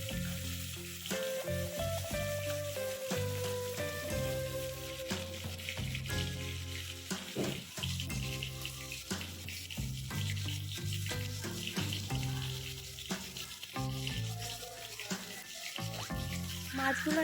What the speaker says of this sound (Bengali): এই তেলে আমি মাছগুলো একে একে ভেজে নেব।